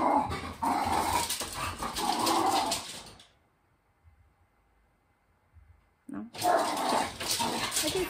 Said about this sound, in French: C'est comme un système d'alarme, ce chien-là.